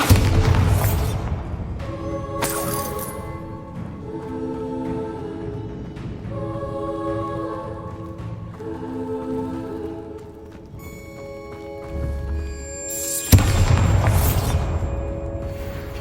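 A Bombarda spell explosion in the video game Hogwarts Legacy: loud booming bursts at the start, another shortly after, and a big blast near the end, with a game music score playing steadily between them.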